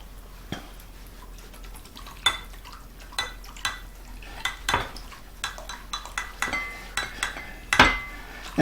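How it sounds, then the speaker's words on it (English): Whisk stirring flour mixture into brisket gravy in a metal pot, giving irregular clinks and taps against the sides, quiet and close with soft scraping between strikes. "And I'm doing that while I whisk it."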